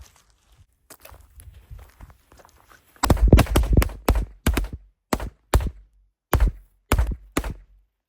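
Several dull, deep thuds from vintage DOT Class C firecrackers exploding on the ground pop one after another at uneven intervals, close by, with faint rustling before them.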